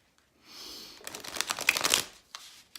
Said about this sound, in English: I just need to do one more little shuffle, and then I'll start pulling cards